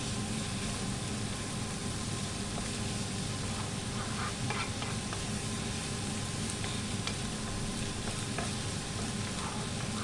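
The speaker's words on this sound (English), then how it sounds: "Cook until the capsicum is soft, half cooked" Capsicum and onion sauté in a hot pan with a steady, even sizzle, broken by faint scrapes and taps as a utensil stirs them, continuous and close.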